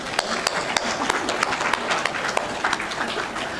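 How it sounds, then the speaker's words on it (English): Conference audience applauding at a growth and resilience business event, a dense steady wash of many hands clapping together for a few seconds, fairly loud and continuous with no break. "let's give them a round of applause"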